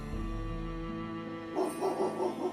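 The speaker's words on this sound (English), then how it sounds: "he faintly hears the sound of Colby's relentless barking as it gets further away from the house" Colby the dog barks relentlessly from far away, a string of faint, distant barks in quick succession following a quiet stretch of low background hum.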